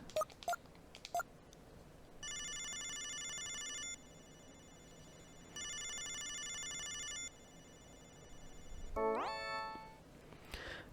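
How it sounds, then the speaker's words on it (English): A video phone rings in the Sega CD game Snatcher: two sustained electronic ringtone bursts, each over a second long, with a brief rising beep sequence afterward, over faint background game ambience. "We're going to try to call Junker headquarters."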